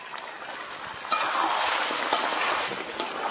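Chicken sautés in a pan with shallots for a spiced kosha curry, a close steady sizzle broken by a few sharp stirring scrapes and clinks, with no voices.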